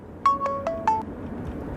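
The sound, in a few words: phone ringing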